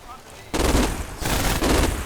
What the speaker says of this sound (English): There's my heavy machine gun, should be opening up.